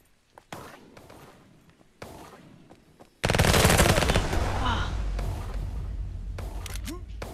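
Loud, sustained rapid gunfire from weapons in the video game Venge, beginning abruptly after a few quieter clicks and shots and continuing densely to the end, with a player's voice faintly under it.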